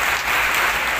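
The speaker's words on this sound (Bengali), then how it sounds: "একটু জোরে হাততালি হবে।" Audience applause at a rapid chess tournament prize ceremony, a brief dense burst of clapping from a crowd, steady and fairly loud with no talk.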